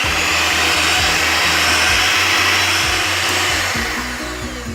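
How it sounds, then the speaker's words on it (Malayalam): An electric hand mixer whirs steadily while beating egg yolks into creamed sugar and butter for a Kerala plum cake, a loud continuous motor drone with shifting pitch as the beaters work the batter, no voices present. "നമുക്ക് മുട്ടയുടെ ഉണ്ണിയും കൂടെ ചേർത്ത് നമുക്കിത് നല്ലതുപോലെ അടിച്ച് മിക്സ് ആക്കാം."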